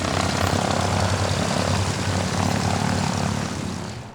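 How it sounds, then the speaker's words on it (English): A WW2-era Catalina flying boat, a PBY first flown in 1935, passes low at a New Zealand air show, its propeller engines droning loud and continuous before easing slightly at the end. "First flown in 1935, the Catalina has proved to be one of the most successful aircraft of its kind."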